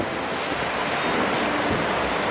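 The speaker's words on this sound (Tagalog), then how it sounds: "Maraming lakas ng alon." Strong ocean waves break and roll at a beach in Bali, a steady loud wash of surf with some wind buffeting the microphone throughout.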